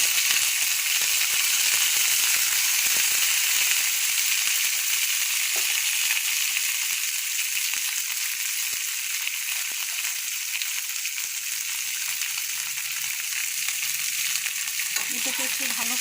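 Drumstick pieces and potatoes fry in hot oil in a pan, giving a steady, dense sizzle throughout with scattered scraping taps of stirring and no talking.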